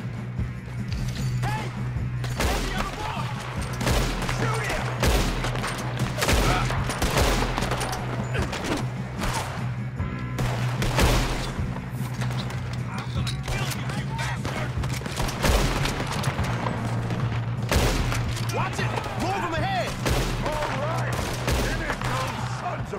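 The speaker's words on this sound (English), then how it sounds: "Good shooting, kid." Rapid gunfire in the Red Dead Redemption 2 video game, dense overlapping shots and bursts crackling nonstop over a steady game soundscape, loud and continuous, with occasional voices shouting amid the shooting.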